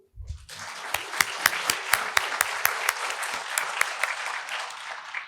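Steady applause from a group at a faculty awards ceremony, dense clapping with distinct sharper claps standing out, sustained throughout after a brief low sound at the start.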